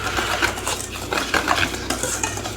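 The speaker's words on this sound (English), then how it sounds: "combine all the ingredients and whisk it very well" Whisk stirring buttermilk pancake batter in a bowl, a steady scraping, clinking rhythm of repeated strokes against the bowl, close and moderately loud, with no talking.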